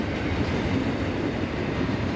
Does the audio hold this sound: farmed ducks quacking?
no